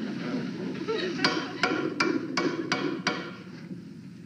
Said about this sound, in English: My hammer.